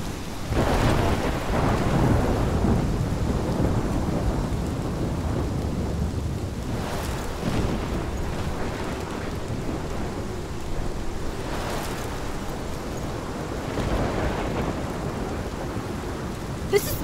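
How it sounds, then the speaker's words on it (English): Steady heavy rain pours throughout a video-game storm in Life is Strange, with low thunder rumbling and swelling several times. The sound is loud and continuous, and no one speaks. "This is my storm."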